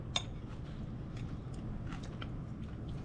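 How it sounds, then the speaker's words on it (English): Cooked hogfish chewed near the mic, a few crisp crunchy bites with a sharp first crack, then softer intermittent chewing over a steady low background hum. "You get a crunch. You can hear it?"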